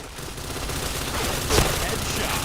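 Rapid P90 submachine gun fire in a shooting video game, a dense continuous burst with one louder crack in the middle, sounding close and harsh.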